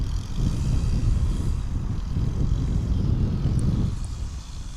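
Airliner at DFW Airport, a loud steady jet engine roar held close throughout, easing slightly near the end, with no talk.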